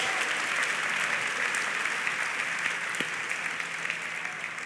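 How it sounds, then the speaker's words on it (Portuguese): A church congregation applauds during a Portuguese-language sermon: dense, steady applause from many hands that fills the whole stretch at an even level. "Você pode aplaudir ao Senhor?"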